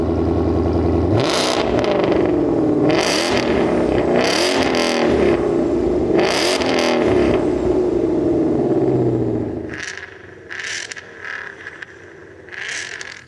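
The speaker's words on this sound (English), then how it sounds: "huge quad tailpipes which sound glorious" A Ford Mustang Shelby GT500 roaring through its quad tailpipes, with several loud close revs rising and falling before the engine drops to a burbling idle punctuated by short blips.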